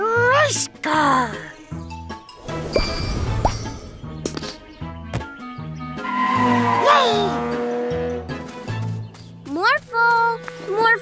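A cartoon race car screeches through repeated tire skids and squeals amid whooshing morph effects, interleaved with chirpy character voices speaking between the bursts.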